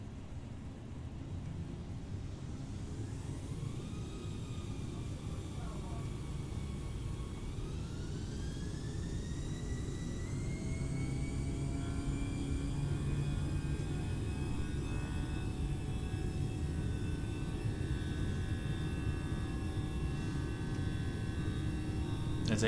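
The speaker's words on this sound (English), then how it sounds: "I'm going to shush as we listen to the takeoff." An Air Berlin Airbus A319 in Microsoft Flight Simulator 2020 takes off from Berlin, its jet engines spooling up from a low hum into a steady, rising whine that holds at high power over a constant rumble.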